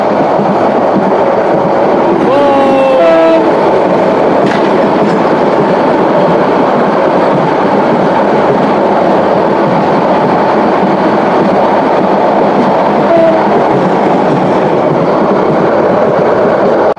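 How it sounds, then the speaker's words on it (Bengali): A freight train rumbles past at a railway crossing, loud, steady and close, with continuous clattering wheels and a brief squeal of metal early on; no voices. "একটি মালগাড়ি আসছে সামনে।"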